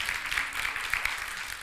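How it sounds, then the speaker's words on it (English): An audience claps for Reverend Margie Brach in a church or lecture setting, a short burst of dense, fairly loud applause that holds steady throughout. "let's clap for Margie Brach first"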